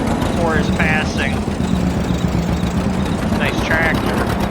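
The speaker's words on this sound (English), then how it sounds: "This thing fired up first shot. It's the tractor my grandpa had restored before his passing." Restored farm tractor engine running, a steady low rhythmic chug close by with a faint voice-like sound briefly over it twice.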